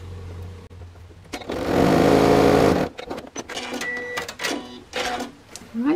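A sewing machine top stitches along the folded edge of a fabric coin purse pocket, running in a steady loud burst of about a second and a half, then stopping while someone talks over smaller handling noises.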